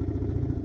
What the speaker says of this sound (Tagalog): So magmo-motor ride tayo pupunta doon.